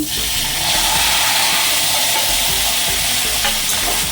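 Whole spices, bay leaves and marinated chicken (ginger, garlic, chili, turmeric, coriander, cumin, yogurt) fry in hot oil with a loud, steady, close sizzle and faint stirring clicks.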